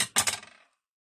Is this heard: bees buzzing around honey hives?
no